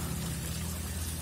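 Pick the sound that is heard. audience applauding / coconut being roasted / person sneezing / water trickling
water trickling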